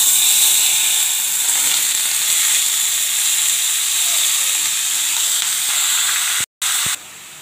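Bottle gourd hitting hot oil seasoned with fenugreek and mustard seeds, producing a loud, close, steady hiss and sizzle that cuts off abruptly near the end, then returns more quietly.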